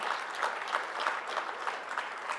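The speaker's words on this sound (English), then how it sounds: "round of applause" An award-ceremony audience claps in a steady, even round of applause, many hands at moderate loudness with a faint rhythmic pulse, no voices on top.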